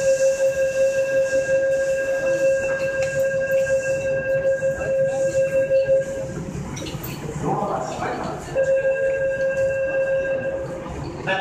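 Tokyo Metro 6000 series train standing at Kita-Senju station, with a steady door-chime buzzer tone that pauses midway during the door movement, then sounds again, over the hum of the platform.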